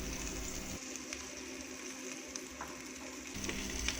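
Julienned ginger sizzles in a little leftover frying oil after fish has been fried, a steady close crackle and hiss with brief stirring scrapes and no talking.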